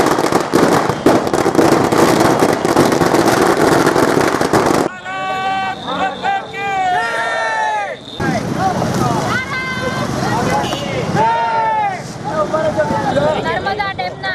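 Firecrackers bursting in a rapid crackling barrage at a celebration in Rajkamal Chowk, Amreli, loud and dense for several seconds, then giving way to crowd chatter and voices with scattered pops.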